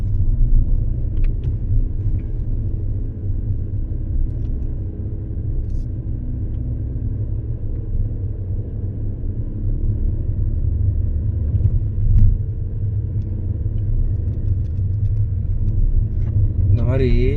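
A car drives at night on a winding hill station road toward Kodaikanal, heard from inside as a steady, heavy low rumble of engine and road noise that runs throughout.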